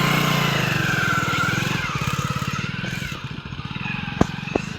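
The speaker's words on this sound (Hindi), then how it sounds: "Bike start." A motorcycle engine starts in a village setting and settles into a close, rapid putt-putt idle, with a couple of sharp clicks near the end.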